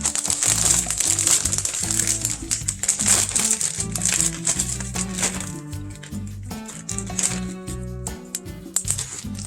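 Plastic bag crinkling and crumpling as a pork chop is handled and sealed inside, a steady close-up rustle with sharp crackles and low background hum throughout.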